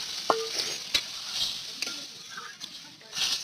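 Curry simmering and sizzling in a pan just after water is poured over fried green chilli and cumin paste, a steady bright hiss broken by a few short sharp clinks of a stirring spoon.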